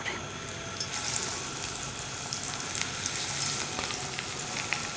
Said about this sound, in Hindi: जितने फ्राइंग पैन में आते हैं उतने फ्राई कर लेते हैं